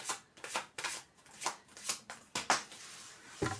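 Tarot cards handled during a reading, shuffled in a series of soft, quick riffling swishes and slaps, close and fairly quiet with an irregular rhythm and a sharper snap near the end.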